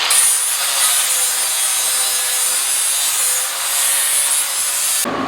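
Steady, loud abrasive grinding on steel, blending welds on a metal footrest for a bar, rasping continuously close by for about five seconds before cutting off abruptly.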